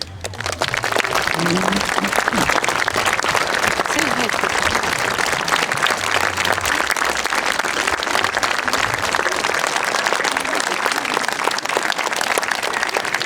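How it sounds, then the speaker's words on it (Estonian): Sustained audience applause at a generational folk dance festival celebration in Harju County, dense continuous clapping that stays loud throughout, with some voices underneath at the start. "Kestvad ovatsioonid"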